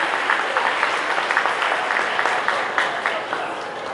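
An audience at a 2018 VVCIT car club gathering applauds during a prize ceremony, a steady close wash of clapping lasting throughout.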